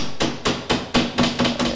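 Hammer blows from a carpenter glazing a wooden window frame, about seven sharp, evenly spaced close-up strikes in quick succession.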